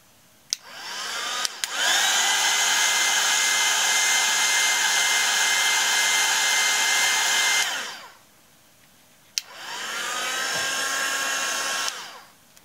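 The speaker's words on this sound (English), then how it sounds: "I think the drying tool helps for sure." A handheld drying tool blowing onto a watercolor painting of trees in mist, a steady loud whirring roar for about six seconds, then a pause and a second shorter burst of blowing.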